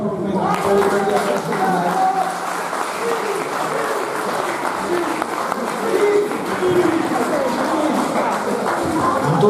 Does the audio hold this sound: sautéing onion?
no